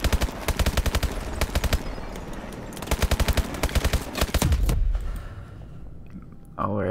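Rapid automatic gunfire in the Call of Duty Advanced Warfare game, several fast rhythmic bursts of loud shots separated by short gaps, followed by a dense rumbling blast and a sharp final sound, with a player's voice speaking over the action.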